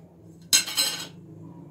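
A metal spoon clinks briskly against a cup while instant coffee is being made, a short cluster of bright, close strikes about half a second long over a quiet background.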